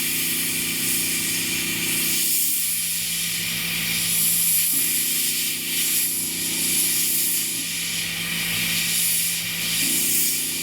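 Hataka Orange Line lacquer sprays from an airbrush in a loud, steady hiss, with a compressor-like hum cycling on and off beneath it, no voices.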